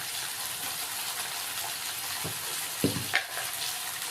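Beans and carrots fry in a pan with chilli, salt and turmeric, giving a steady broadband sizzle throughout, with a couple of brief louder scrapes of stirring near the end and no talk.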